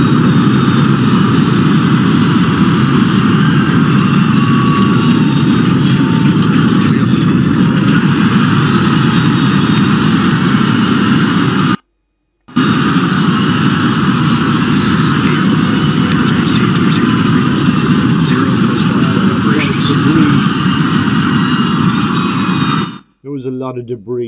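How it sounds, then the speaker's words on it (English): SpaceX Starship rocket engines firing at launch, held on the mount by clamps, produce a loud, steady roar that fills the whole clip, cut by one short gap midway and ending abruptly near the end. "It's held down with the clamps onto the mount until all engines are fired up enough so they have enough thrust to clear the pad."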